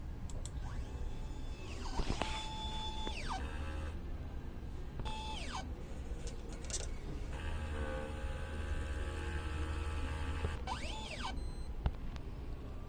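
An inkjet printer runs a print head cleaning cycle, its motors whirring in rising and falling tones that repeat several times over a steady mechanical hum, with occasional clicks, fairly faint, and no talking.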